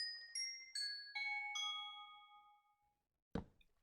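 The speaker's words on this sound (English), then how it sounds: "now we have a doorbell" A bright electronic Minecraft doorbell chime plays a descending sequence of four ringing tones that fade out, followed after a pause by a short sharp clunk.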